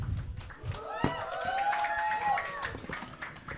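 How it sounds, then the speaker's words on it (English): Audience at a media workshop applauding and cheering, scattered claps and crowd noise over a sustained voice, fairly loud and close throughout. "Round of applause to him."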